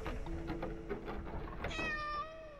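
A cat meows in the horror video game Layers of Fear, a clear drawn-out call near the end following a busy stretch of in-game ambience and shuffling sounds.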